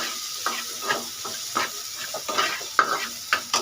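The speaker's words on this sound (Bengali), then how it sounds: "চিংড়ি মাছটা হয়ে গেছে, আর বেশি ভাজবো না" Shrimp sizzling in a hot pan, with a steady hiss of frying broken by repeated scrapes and clinks of stirring, close and fairly quiet.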